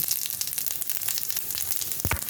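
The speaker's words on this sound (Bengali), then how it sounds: "তেলটা গরম হয়ে গেছে, এখন আমি এর মধ্যে দেবো 5 ফোড়ন" Panch phoron, a Bengali five-spice tempering, dropped into hot oil in a kadai, giving a steady bright sizzle with crackling pops and a brief louder burst near the end, close and without talk.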